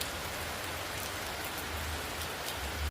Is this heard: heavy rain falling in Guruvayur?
yes